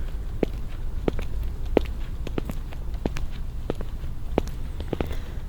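Footsteps walking along a city sidewalk beside a road with bicycles, a steady series of soft, close taps over continuous outdoor street noise.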